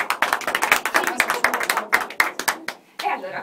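Clapping on an Italian local radio show during an Easter prize draw, a quick run of close, sharp claps over about three seconds, then a short pause and a few more claps.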